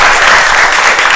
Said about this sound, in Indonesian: Beri tepuk tangan dulu untuk